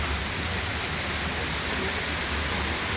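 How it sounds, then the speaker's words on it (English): Heavy rain pouring down in a rainforest setting, a dense, steady hiss of big drops with no pauses, loud and close. "Well, it's raining hard."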